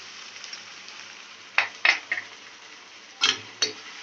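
Dhaba-style minced keema fries in a pan with ginger and garlic paste. A faint, steady sizzle runs throughout, broken by a handful of sharp spatula scrapes and clinks against the pan.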